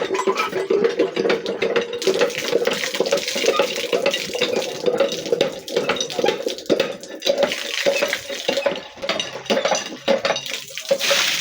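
Water runs steadily into a freshly welded pipe during a leak test while setting up a water pump, a continuous splashing rush with metallic clinks throughout.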